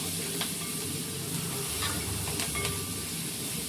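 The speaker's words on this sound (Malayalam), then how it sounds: "ആ വെളിച്ചെണ്ണ ഇടാത്തിലൂടെ നല്ലോണം ഒന്ന് വഴറ്റി എടുക്കണം" Chopped onion sautéing in coconut oil for a Kerala coconut-milk seer fish curry, giving a steady soft sizzle and hiss throughout with a few faint utensil scrapes, no talking.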